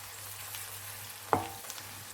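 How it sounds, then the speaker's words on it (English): Two large sliced onions frying in ghee give a soft, steady sizzle with one sharp clink of a utensil against the pan partway through, close and fairly quiet, with no voices. "In go 2 large sliced onions. We're going to fry these for 5 minutes"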